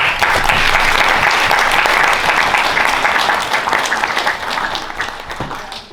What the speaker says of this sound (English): Never before have I been greeted with such thunderous applause.